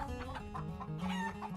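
A cartoonish big red hen clucks in a lively nursery-rhyme song, with several rhythmic clucks over a steady bouncy music backing.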